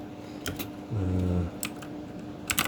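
Keys clatter on a computer keyboard as a Linux command is typed, a few quick close taps in short bursts over a steady background hum.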